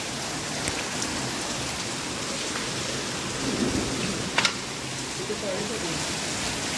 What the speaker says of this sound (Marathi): हे बघा सतत पाऊस चालू आहे बघा, कंटिन्युअसली.